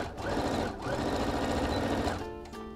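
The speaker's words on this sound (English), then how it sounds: "now we're gonna sew this all together in like a little sandwich" A sewing machine quilts fabric layers for a zipper bag, its rapid steady whirring stitch running for about two seconds, briefly stopping, then starting again close by.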